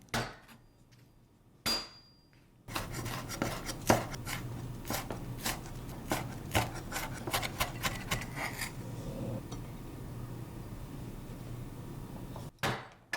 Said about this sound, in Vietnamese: Hành tím thì mình đập dập và băm nhỏ ra nè